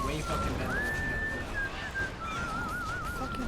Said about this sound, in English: Fucking Canucks sitting back there and fucking whistling.